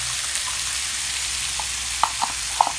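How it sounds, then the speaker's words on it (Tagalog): Corned beef fries with tomato and onion in a pan, a steady soft sizzle with a few light scrapes of stirring toward the end, close up and without talk. "Habang ginigisa natin ang corned beef, habang hinahalo natin ang corned beef"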